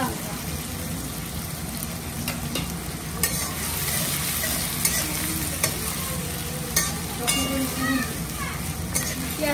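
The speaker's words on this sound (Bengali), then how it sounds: "পেঁয়াজটা একটু লাল লাল করে ভাজা হোক।" Onion and green chilli frying in a pan, a continuous sizzle with scraping stirs and occasional spatula knocks throughout, fairly loud and close, with faint background voices.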